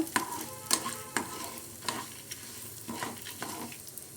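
Ingredients for beetroot chutney fry gently over a low flame, a soft steady sizzle broken by repeated scraping stirs and light clinks of a spatula in the pan, close by and with no voices.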